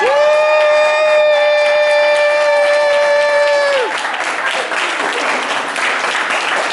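A crowd at a race finish line breaks into loud applause and cheering as a runner crosses, the roar swelling after a long sustained horn-like tone in the opening seconds, dense and continuous throughout.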